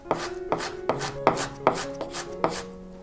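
Scallion, ginger and garlic being finely minced with a knife on a board: a steady series of sharp, close chops, about eight evenly spaced strikes, with no talking.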